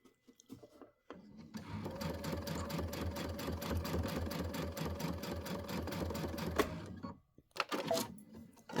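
A sewing machine runs steadily for about six seconds while stitching a Christmas Flight quilt, a fast even whir that starts and stops cleanly, with brief handling noises before and after.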